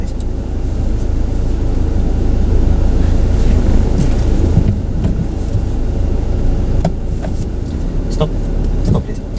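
A learner driver's car driving along a road lined with parked cars, steady engine and road rumble with wind noise, loud and continuous throughout.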